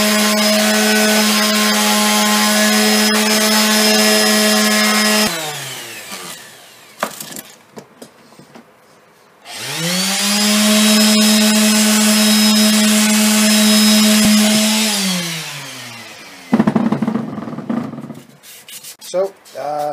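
An electric power sander works a wooden sculpture at 80 grit, giving a steady high motor whine in two long runs. Each run winds down, with a short stretch of scraping and handling noise between them.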